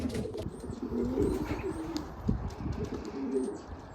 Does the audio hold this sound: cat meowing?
no